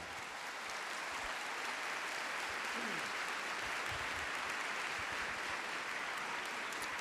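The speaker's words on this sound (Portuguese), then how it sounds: "Pode aplaudir a palavra." A large church congregation claps steadily after a scripture reading, a broad, even wash of applause heard from some distance, with a faint voice briefly in the middle.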